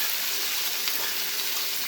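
Vegetables stirred and frying in a pan, a steady bright sizzle with soft scraping, close and continuous, no talk.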